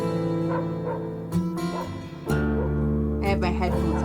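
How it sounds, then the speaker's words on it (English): Several dogs bark and yip in short bursts in a song, mixed with whines and a droning tone, loud and close. "Ooh, dogs barking."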